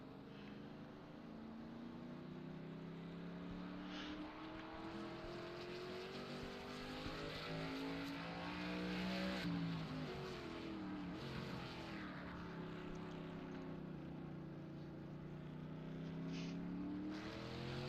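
Race cars circle the Daytona Road Course in the iRacing video game, several engines whining and rising and falling in pitch as they pass, a dense, continuous roar throughout.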